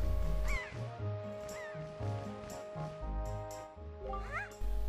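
Seagulls in Zelda: The Wind Waker let out several squawking cries at intervals, each call rising and falling over steady background game music.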